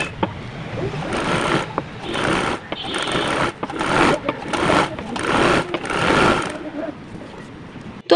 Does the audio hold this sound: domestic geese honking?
no